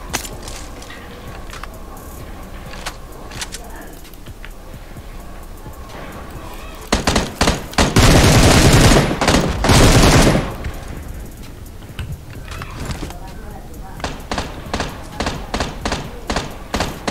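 Gunfire in PUBG Mobile (Battlegrounds Mobile India), scattered single shots at first, then a loud sustained burst of automatic fire, followed by more rapid rhythmic shots near the end, with voices talking in between.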